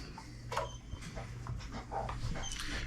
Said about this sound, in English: you can hear the puppy dog in the background